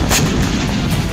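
Hezbollah rockets explode on Israeli army positions in Safed, heard as loud, heavy, booming blasts in quick succession with no voices.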